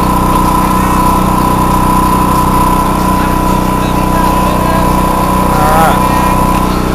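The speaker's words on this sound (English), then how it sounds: "You can see the alternator running." A small toolbox generator runs steadily with its alternator engaged, a constant engine drone with a strong mid-pitched whine that holds level throughout, fairly loud and close.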